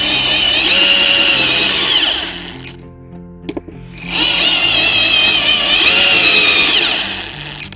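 A power driver drives screws into a wooden shelf board for a backpack shelf, a steady high motor whine running for about two seconds, then a short pause with a few light clicks, then another long whining run.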